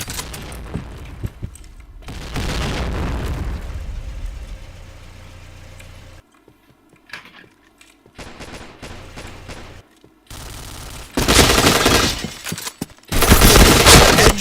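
Video game shooter combat with loud, broad bursts of blasts and gunfire separated by quieter stretches. The heaviest explosive bursts come near the end, with no talking heard.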